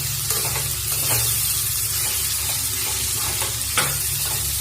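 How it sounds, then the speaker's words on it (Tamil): Steady loud sizzling of chopped okra frying in a pan, with occasional scraping stirs over the continuous hiss. "இப்போ எல்லாத்தையும் நல்லா கலந்து வணக்கிக்கலாம்"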